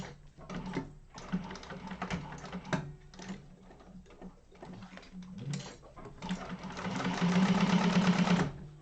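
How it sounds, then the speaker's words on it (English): Sewing machine top stitching along a bag handle for a sling bag, running in steady bursts of rapid needle clatter with short pauses, then a longer continuous run, close and alone. "And we'll top stitch our handle as well."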